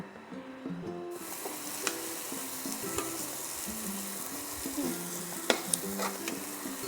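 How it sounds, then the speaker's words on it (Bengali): Spice paste for a snake gourd kofta curry sizzles and fries steadily in a pan, with occasional scraping stirs and clinks of a spoon against the pan, heard close and alone. "সেখানে যতক্ষণ মশলাটা কষছে কষানো হচ্ছে"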